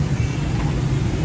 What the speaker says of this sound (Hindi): ट्रैफिक बहुत ज़्यादा हो गई है आज।